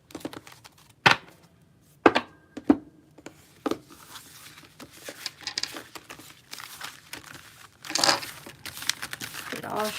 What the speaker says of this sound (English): Get all shuffled up.